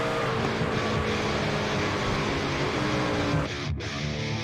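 Racing truck engines roar steadily at Kansas in an esports truck series sim race, a continuous loud drone that dips briefly near the end.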